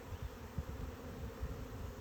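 A busy honey bee colony buzzes as a hive is opened and the dummy board eased out, with many drones present; a close, continuous hum with soft pulsing swells and no talking.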